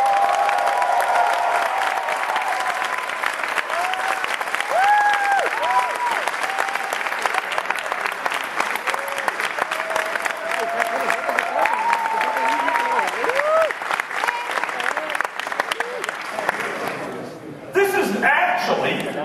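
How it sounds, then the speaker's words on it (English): Steady, loud applause from a large audience at the 2011 Imagine Cup finals, sustained for a long stretch before tapering off near the end. "So a round of applause for all your hard work and great work."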